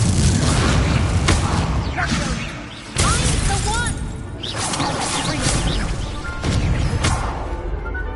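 A fire spell bursts in Hogwarts Legacy gameplay, with loud booming blasts and crashes repeating over several seconds amid whooshing effects and a dense game soundscape.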